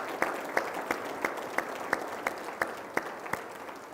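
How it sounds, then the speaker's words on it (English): Sparse, faint applause from a county gathering, heard as a slow run of distinct, evenly spaced claps, roughly three per second, at a distance. "How about a huge round of applause for all of the women that make our county great?"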